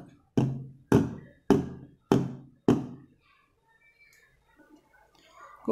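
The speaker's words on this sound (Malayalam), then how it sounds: "ഇതൊന്നിങ്ങനെ ടാപ്പ് ചെയ്ത് വെക്കാം" A cake tin filled with batter tapped down on a surface five times in an even rhythm, close and distinct thumps, followed by quiet faint rustling.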